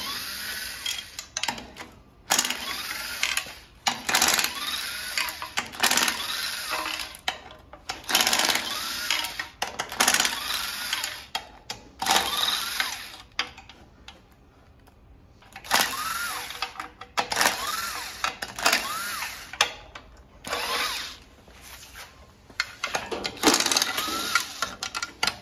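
A 3/8-drive electric impact gun removes bolts during transmission work, firing in repeated buzzing, rattling bursts of a second or two separated by short pauses, close and loud.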